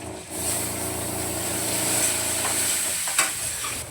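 Blended onion and tomato paste sautéing in oil in a pan, giving a continuous close sizzle and hiss with light stirring and one brief clack near the end.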